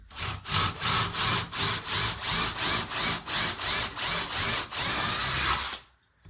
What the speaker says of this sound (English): I'm going to get these holes drilled and we'll go from there.